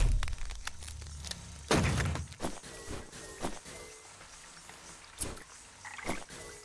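Pig grunts from the Wytchwood video game, a few short snorting bursts scattered among footstep-like thumps and rustles, moderately loud with one stronger grunt near the middle.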